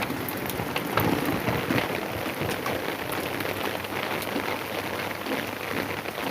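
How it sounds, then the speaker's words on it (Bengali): Steady rain pours down outdoors, a dense, even hiss of drops hitting surfaces that holds at a constant level throughout, with no voices. "চলো একটু বৃষ্টিতে ঘুরি"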